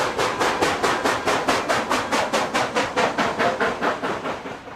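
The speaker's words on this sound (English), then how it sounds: "This results in 4 evenly spaced exhausts per revolution of the big drive wheel." An O-gauge model steam locomotive gives rapid, evenly spaced exhaust chuffs, about four per driving-wheel revolution, each a sharp hissing puff repeating in a steady close rhythm with no talking.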